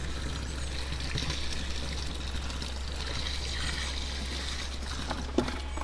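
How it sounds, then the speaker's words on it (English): Water pours steadily into a dug post hole for setting a fence post with postcrete outdoors, a continuous close splashing and trickling that runs the whole time under a low background hum, with a small knock near the end. "fill your hole up about halfway with water"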